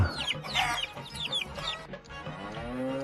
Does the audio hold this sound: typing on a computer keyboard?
no